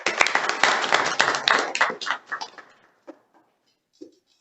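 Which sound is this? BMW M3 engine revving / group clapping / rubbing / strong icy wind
group clapping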